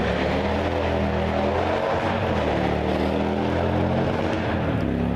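A motorcycle passes near an outdoor dog obedience session, its engine a steady, loud drone that fills the scene without any talk.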